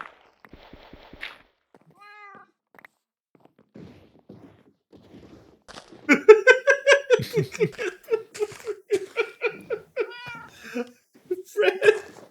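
A cat in Fallout 3 gives a long run of loud, insistent meows in an uneven rhythm after a quiet stretch, with people laughing and talking over it.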